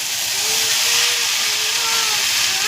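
Loud, steady sizzling hiss of chow mein frying in a pan with green chillies, close up and continuous with no talk.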